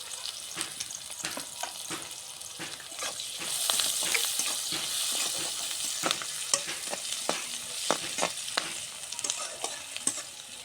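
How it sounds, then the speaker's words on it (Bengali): Onions frying in oil in a pan, a bright continuous sizzle that swells in the middle, broken by repeated scraping and clinking stirs of a utensil against the pan, close and alone. "পেঁয়াজ আমার ভাজি নিচ্ছি"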